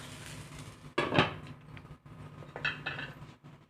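A lid clatters onto a pan of dry bitter gourd (karela) cooking over a low flame, one short clanking contact around the second mark, then a quiet kitchen hush.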